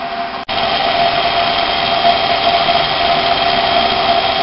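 Small Harbor Freight electric motor drawing about 6.5 amps runs with a steady, loud, even whine and hum after a brief dropout at the start, close up and alone.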